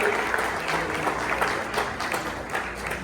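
Audience applause at a French text and eloquence competition final, a dense, sustained roar of clapping with a few louder bursts, filling the space at an even level.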